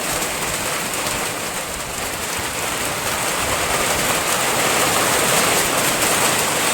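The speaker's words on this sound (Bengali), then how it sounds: "আর বৃষ্টিটা ডাকছে কেমন" Heavy rain pours down in a steady, loud, dense roar that holds without a break from start to finish, with no voices over it.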